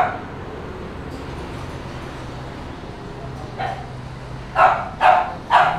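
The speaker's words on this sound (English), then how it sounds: "That's Corgi already complaining and whimpering that we're leaving him" A Corgi dog at a pet hotel gives a few short whimpering yips and barks near the end, three quick bursts over steady room noise.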